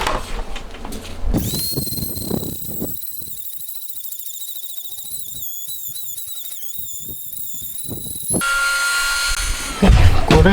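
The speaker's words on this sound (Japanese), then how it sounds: "ここをちょっとリューターで削らないとダメですね" A Dremel-type rotary tool grinds metal from a part of a Honda Monkey engine being built as a 124.4cc four-cylinder near the oil pump, giving a steady high-pitched whine for several seconds with clicks and handling noises before and after.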